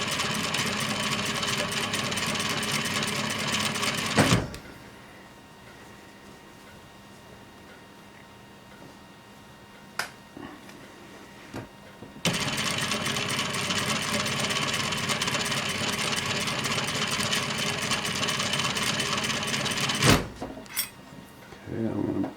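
A sewing machine stitching fabric around a curve hums and chatters steadily up close in two long runs, with a quiet pause between them where a few clicks and handling sounds come through.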